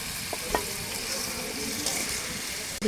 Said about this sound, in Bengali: মধ্যে কেটে রাখা আলু মূলো দিয়ে দেব, একসঙ্গে কষিয়ে নেব।